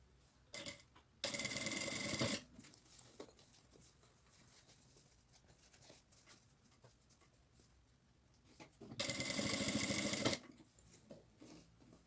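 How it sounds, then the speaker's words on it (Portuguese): A sewing machine stitches a fabric pencil case in two loud, steady runs of rapid mechanical whirring, each lasting a second or more, separated by quieter handling sounds and silence. "e começo a fazer a costura"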